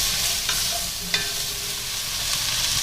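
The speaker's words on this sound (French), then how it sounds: "maintenant je vais y ajouter mes oignons. Donc je vais les faire revenir pendant 3-4 minutes" Chopped onions sizzle steadily in a hot pan for a Flemish carbonade, with a few faint scrapes and knocks as they are stirred, no talking.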